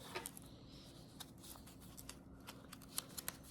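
Paper rustles and crinkles softly while folded sections of a paper airplane are pulled out, with small scattered crisp snaps over a faint, steady background hiss.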